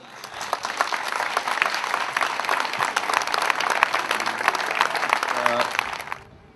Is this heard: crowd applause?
yes